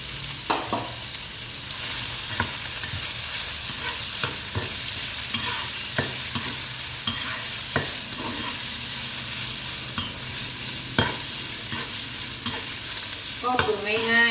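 White rice noodles being stir-fried in a pan: an even sizzle runs throughout while regular spatula scrapes and taps land every second or so, close and clear, with a burst of louder clattering at the end.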